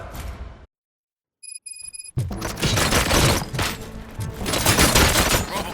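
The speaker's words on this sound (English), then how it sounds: "Gunshots? What's going on?" Bursts of gunfire from the RoboCop: Rogue City video game, a short sharp volley, brief silence with a few faint tones, then sustained loud rapid shooting and impacts filling the rest.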